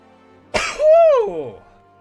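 A single loud, close sneeze: a sharp burst of breath followed by a drawn-out voiced tail that rises and falls, standing alone with no talk over it.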